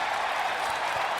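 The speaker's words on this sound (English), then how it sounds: "we're going to go ahead and give you a round of applause for that" Applause from a live show audience: a short, even burst of many hands clapping, moderately quiet and heard from a distance, with no voices over it.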